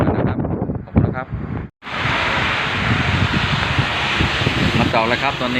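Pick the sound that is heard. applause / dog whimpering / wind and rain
wind and rain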